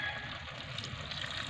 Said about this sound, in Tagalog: Tapos lagyan natin ng kunting tubig